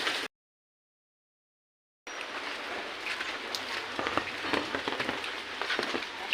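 Rain falling outdoors where someone is cooking in the open, a dense steady patter on surfaces starting after a short silent gap and continuing evenly to the end.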